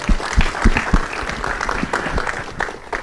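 Audience applause at a live film trailer launch event, opening with a few loud, distinct close claps in a quick rhythm, then thinning into softer, scattered clapping across the room.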